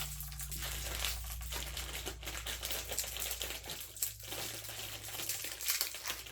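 Caramel candies are unwrapped by hand, giving a continuous close crinkle and rustle of wrappers with small irregular clicks and taps throughout, quiet and without speech.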